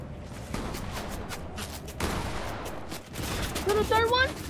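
Fortnite gunfire crackles in rapid bursts and scattered single shots, moderately distant, mixed with game noise, with a voice speaking briefly near the end.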